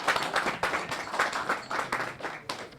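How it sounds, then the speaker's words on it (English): Audience clapping at a StartUp Toledo community event, a short quiet round of scattered claps from a crowd with no talking over it. "When I hold the wand, it's time to clap."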